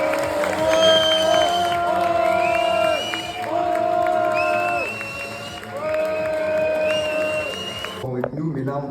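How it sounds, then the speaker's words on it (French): A gym audience claps and cheers loudly, with whoops rising over steady applause while upbeat music plays underneath, then the noise cuts off near the end. "faire un tonnerre d'applaudissements pour le Corona Gym"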